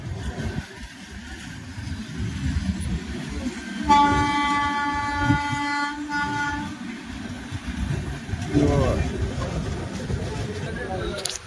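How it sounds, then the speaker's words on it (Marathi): A train rumbles along steadily while its horn sounds in a long, sustained blast midway; people talk nearby over the rolling noise. "पुण्यावरून चालली गाईस ट्रेन."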